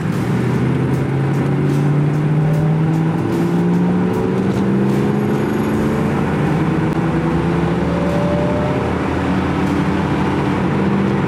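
1982 Chevrolet Corvette pulling away from a stop, its engine note rising through the revs and climbing again after each gear change, close and steady for about eleven seconds with no talking.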